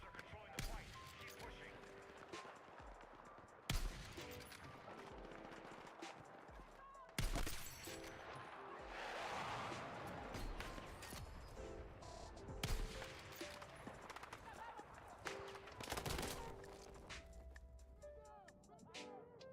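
Rapid gunfire from a video game shooter comes in bursts of sharp cracks and volleys, fairly faint overall, with clustered shots punctuating a busy background of game noise.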